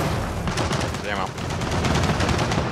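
Rapid turret gunfire in Gears of War 4, a loud continuous stream of shots filling the whole stretch without pause, with battle noise layered over it.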